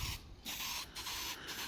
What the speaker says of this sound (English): I'm just spraying them with rattle can.